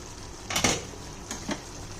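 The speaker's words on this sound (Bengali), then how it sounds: "এবার দেখুন ঢাকাটা খুলছি।" A metal lid clanks as it is lifted off a pot of Gandharaj chicken that has simmered covered for five minutes, two quick clinks close together followed by a softer rattle.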